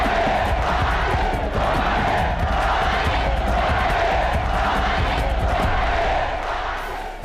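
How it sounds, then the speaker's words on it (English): A huge arena crowd roars and chants in a steady rolling rhythm at a Muhammad Ali heavyweight boxing fight against George Foreman, loud and continuous throughout, easing off slightly at the end. "Ali responded to the roars of the crowd"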